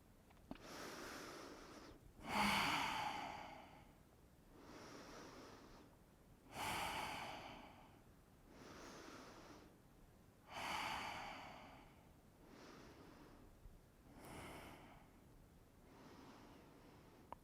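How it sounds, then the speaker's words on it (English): Deep, slow breaths taken during a yoga pose come in an even rhythm, each long inhale and exhale clearly audible and close, with a few louder, forceful breaths standing out. "Keep breathing here."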